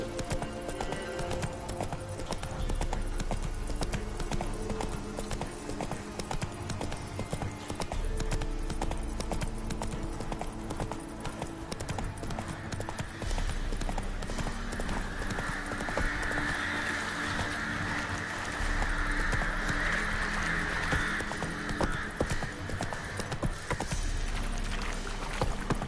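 Hooves of Roach, the horse in The Witcher 3, clop in a steady galloping rhythm under a dense, continuous game soundscape, with faint rider chatter mixed in.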